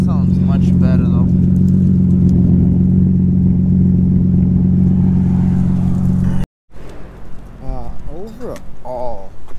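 A Nissan Maxima with a swapped engine and transmission and a full new exhaust idles with a deep, steady rumble close by, then after a brief cut it revs lightly while a person talks over it.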